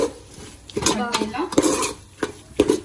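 Vegetables tossed with masala spices in a metal pan for street-style noodles, with a spoon scraping and clanking against the pan in several sharp, close knocks amid steady scraping.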